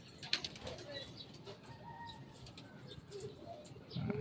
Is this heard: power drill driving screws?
no